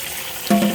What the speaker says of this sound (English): I'm gonna put it in my sink with the hottest water it puts out